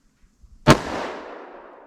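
A single sharp gunshot from a short-barrel revolver firing Underwood 125 grain +P ammunition cracks close by, followed by a fading outdoor echo.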